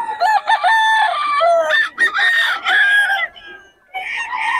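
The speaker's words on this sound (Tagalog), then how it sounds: "Solid mga manok ni Batang" Several roosters crow loudly and close by at a pre-dawn fighting-cock market in Bocaue. Crows overlap in quick succession, with brief clucks and a short pause near the end.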